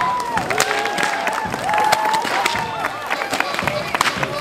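Crowd at a Fasnet carnival parade in Hochdorf clapping and cheering, a busy mix of scattered claps, shouts and babble with voices talking throughout.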